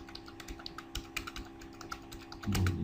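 Rapid tapping on a computer keyboard while entering product details into an online store form, light clicks in a brisk uneven run that thickens into a denser burst at the end, close and fairly quiet with no voice.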